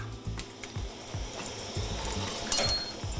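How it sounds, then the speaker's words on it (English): Garlic sizzling softly in oil in a pan, with clinks of utensils and scraping pot sounds, a few brief sharp clatters near the end. "Next, we add our shards of garlic. We want them to start to sizzle."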